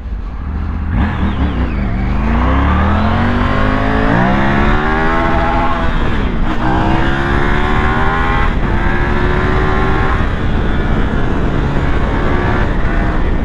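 A Triumph Tiger 900 motorcycle engine revs loud and close, rising and falling through the gears, with its pitch climbing repeatedly in continuous throttle sweeps and no talk over it.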